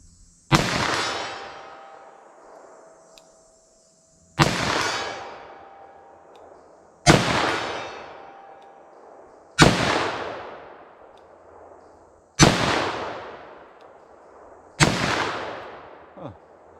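A 10mm revolver firing Underwood 10mm ammunition, six loud, sharp shots spaced a few seconds apart, each with a ringing outdoor decay.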